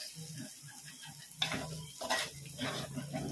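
Onions cook in oil in a pan with a soft sizzle, broken by a few close clinks and scrapes of a utensil stirring against the pan.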